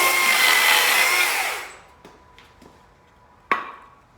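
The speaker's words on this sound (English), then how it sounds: "Put the chainsaw back, disconnect the battery." A battery chainsaw cuts through wood with a loud, bright whine that winds down after about a second and a half, followed by a couple of quiet knocks and one sharp clack.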